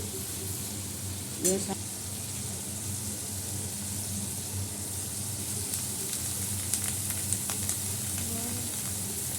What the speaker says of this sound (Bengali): শাকগুলো দিয়ে দিচ্ছি